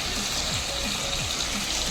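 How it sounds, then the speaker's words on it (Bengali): Sliced tomato frying in hot oil, giving a dense, steady sizzle and crackle like rain on a surface, close and fairly loud without pause. "ওই তেলের মধ্যে দিয়ে দিচ্ছি স্লাইস করে কেটে রাখা টমেটোটা খুব ভালো মতো ভেজে নিচ্ছি"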